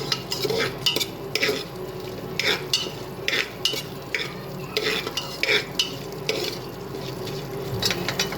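Ghee with bay leaves and whole garam masala being stirred in a pot, a utensil scraping and clinking in repeated strokes over a soft background sizzle, close and fairly loud, with no voices.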